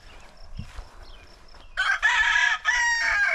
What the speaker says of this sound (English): Yes, we hear you. But these are some of our chickens. We got some Icelandics.